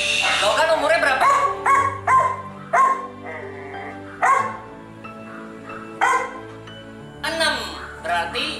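Puppy barking in short, sharp bursts, several separate barks and yips spaced irregularly, loud and near, with people talking between and around them.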